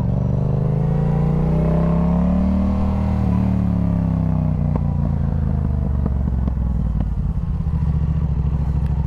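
Kawasaki Ninja ZX6R sport bike revving hard through a wheelie, a loud close engine note sweeping up and down with clattering bursts toward the end.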